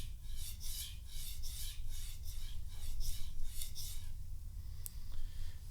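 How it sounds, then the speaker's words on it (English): A knife edge drawn across a fine 8000-grit polishing stone, giving a steady run of soft, rhythmic strokes, each a gentle rasp, close and alone with no talk. "this is why it's called polishing stone. What it does is practically polishing the edge."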